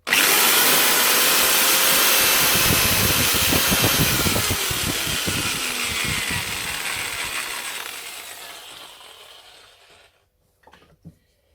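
A disc sander squaring a wooden pen blank with a brass tube runs loud and steady with a grinding rasp, then winds down and fades out, leaving a few faint knocks at the end; no talking.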